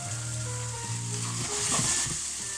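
Onions sizzle steadily in a hot pan as part of cooking spicy peanut butter chicken noodles, a close, continuous frying hiss with no voices.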